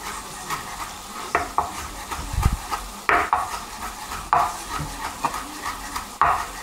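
Wine-based sauce with parsley simmering and reducing in a pan for oeufs en meurette, a steady soft bubbling sizzle broken by occasional spoon scrapes and clinks against the pan, close by with no talk.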